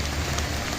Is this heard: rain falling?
yes